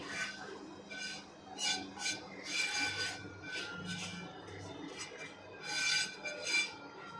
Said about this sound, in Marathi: त्या ताटामध्ये आपल्याला हे सगळं मिश्रण काढून घ्यायचं आहे